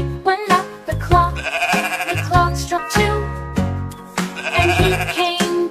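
Sheep bleating in a children's nursery song, repeated wavering bleats set over bouncy musical backing, loud and close.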